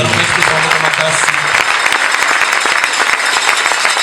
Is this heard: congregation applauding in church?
yes